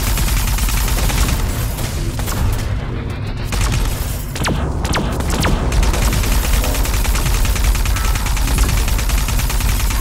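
Grenade launcher firing in the sci-fi shooter game Arc Runner 2, a loud, dense barrage of blasts and booms that runs without a break.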